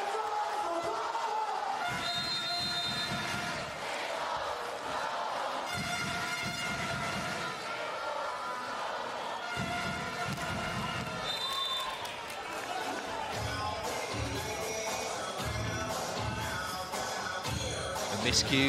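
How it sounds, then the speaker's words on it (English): A partisan home crowd at a 2019 Volleyball Nations League men's match, Bulgaria against Japan, keeps up a continuous loud roar throughout, while a commentator talks over it. "They're really riding the noise of this partisan home crowd"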